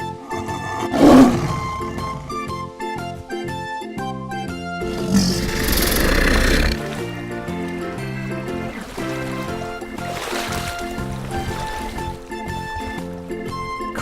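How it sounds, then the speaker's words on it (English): Toy lion, part of a wild animal collection, giving a recorded roar over bright music, with one short roar early and a longer, louder one in the middle. "Lion."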